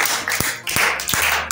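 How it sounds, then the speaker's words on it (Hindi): Children at a Sunday school class clapping together, a few loud, distinct claps in an uneven rhythm, close and clear over a quiet room. "तालियां बजाएं जोर से"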